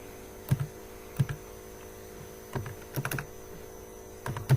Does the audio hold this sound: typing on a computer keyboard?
yes